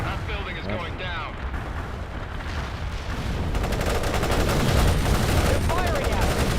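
Artillery and gunfire from the video game World in Conflict, dense overlapping bursts and booms forming a continuous loud battle din that swells in the second half, with game voices and radio chatter mixed in.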